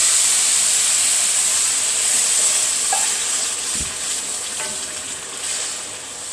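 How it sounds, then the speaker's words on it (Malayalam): Water hitting semolina (rava) roasting in a hot pan sets off a steady, close hissing sizzle that carries on evenly throughout, with a faint clink partway through. "റവ ഒരുവിധം മൂത്തിട്ടില്ല ഇനി നമുക്ക് വെള്ളം ഒഴിച്ച് കൊടുക്കാം"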